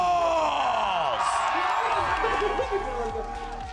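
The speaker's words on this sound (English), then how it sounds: "you can hear the crowd for the Sentinels" An arena crowd at a Valorant esports match roars and yells for the Sentinels as the team is introduced, a loud continuous swell of cheering with an announcer's amplified voice running over it.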